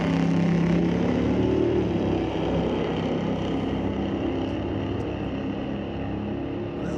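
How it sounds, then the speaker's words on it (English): A 1957 Chevy Bel Air and a 2019 Dodge Challenger with a 392 Hemi run a street-legal drag race at Mission Raceway Park, their engines a steady, loud, dense roar that barely eases over seven seconds. "It's that 57 Chevy Bel Air and a 2019 Challenger with a 392 under the hood."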